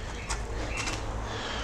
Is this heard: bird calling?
yes